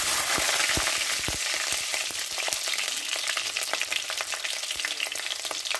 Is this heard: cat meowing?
no